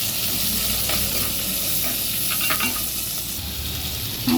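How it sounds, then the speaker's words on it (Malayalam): Chopped shallots sauté in a hot pan with a steady, close sizzle and frying hiss, broken by the scrape of a spoon stirring now and then. "അല്പം ചെറിയ ഉള്ളി ചെറുതായി അരിഞ്ഞത് ചേർത്ത് കൊടുക്കുക. എന്നിട്ട് നന്നായി വഴറ്റിയെടുക്കുക."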